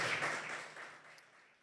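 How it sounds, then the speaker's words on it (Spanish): Church congregation clapping in praise of the Lord during a Spanish-language service, a brief soft burst of many hands that fades quickly within under two seconds, heard at a distance with no voices. "¿Cuánto le dan ese aplauso fuerte al Señor en esta tarde?"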